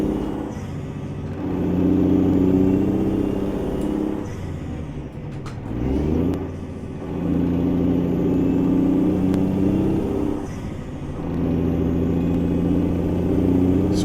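A Mack B62 truck with a 15-speed twin-stick triplex gearbox in American Truck Simulator accelerates in low gears. Steady, loud engine drone rises in pitch in repeated waves. Brief dips between the pulls mark the gear changes.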